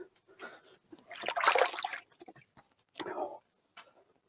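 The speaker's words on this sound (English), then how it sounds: "So what do? I wash my hands." Hands are washed under running water while cooking, giving short bursts of splashing and trickling, loudest in the first half and then in a brief second burst, with quiet gaps between.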